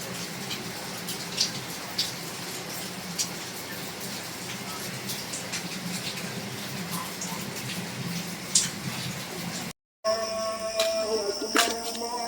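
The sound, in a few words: heavy rain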